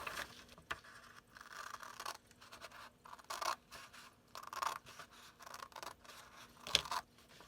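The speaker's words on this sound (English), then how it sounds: "And then I'm going to cut along that line with my scissors." Scissors snip and scrape through paper in quiet, irregular cuts, with a few sharper clicks near the end.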